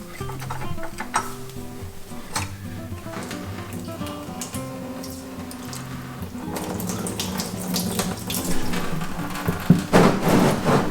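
Engine coolant draining from a 2005 Mazdaspeed Miata into a drip pan during a water pump replacement, a steady splashing, trickling pour that grows louder and more turbulent toward the end, with faint talk.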